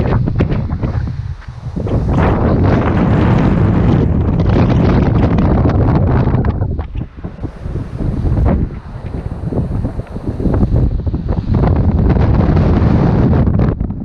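Strong wind buffets the microphone in loud, roaring gusts on a bushwalk at Hanging Rock, briefly easing midway before surging again.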